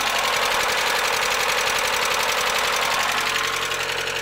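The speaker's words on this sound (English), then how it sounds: "this is the ticker, the lifter tick noise it's making" A Mazda Miata engine idles steadily and loudly up close, with a fast, even ticking from the valve lifters riding over the engine hum the whole time.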